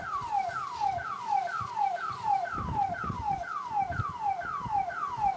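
An alarm sounding from a building near a racing venue, a repeating falling electronic tone in rapid regular cycles, loud and continuous, with low rumbles of vehicles or crowd underneath.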